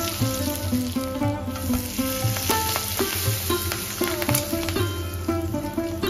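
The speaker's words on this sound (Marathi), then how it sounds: "आता टाकूया आपण तयार केलेला मसाला आणि थोडा कढीपत्ता घालून छान परतून घेऊया।" Ginger, whole spices, masala and curry leaves frying in hot oil for a Navratri bhandara vegetable dish, with a steady close sizzle and repeated spoon-scraping stirs against the pan throughout; a faint musical tone runs underneath.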